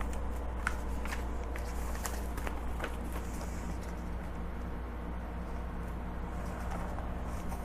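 Soft crinkling, peeling and tapping from transfer tape being handled while making a dollar-store decal, a quiet, irregular rustle with small sharp ticks, close and without speech.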